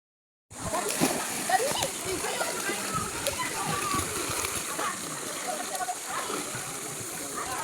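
A child splashes in swimming pool water alongside a cousin, with continuous sloshing and splatter close by and children's voices mixed in.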